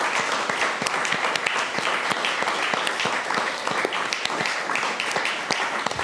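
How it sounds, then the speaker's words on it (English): Sustained audience applause after a talk on how wars end, a dense, loud patter of many hands clapping with crisp individual claps standing out, continuing steadily for six seconds without speech. "Could you please give a last hand of applause for my incredible speakers?"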